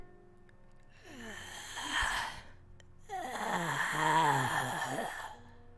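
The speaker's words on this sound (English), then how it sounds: "You hear, seemingly from everywhere and nowhere, a deep, raspy breathing." A deep, raspy breathing effect plays in two long drawn-out waves, a harsh rattling inhale then a louder, gravelly groaning exhale, over a faint low hum in a tabletop fantasy roleplaying game session.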